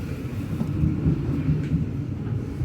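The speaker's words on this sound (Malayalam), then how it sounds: "കുറച്ചുകൂടെ ഒരു ട്രെയിൻ പോകുന്നുണ്ട്" Train passing through a London station, a steady low rumble and rolling rail noise sustained throughout at moderate distance, with no talk.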